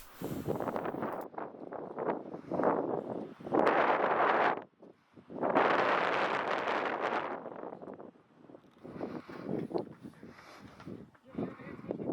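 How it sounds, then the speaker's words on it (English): Strong desert wind at Canyonlands buffets the microphone in loud roaring gusts, rising and falling over several seconds, with a person talking between the blasts. "the wind is just part of the desert package. It was always blowing."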